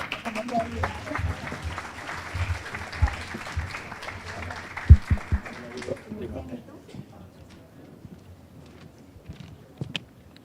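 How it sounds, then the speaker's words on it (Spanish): An audience at a panel on labor and health reforms applauds the panelists in a spell of moderately loud clapping that thins out after a few seconds, with a few sharp thumps and some talk underneath. "Un aplauso para ellos,"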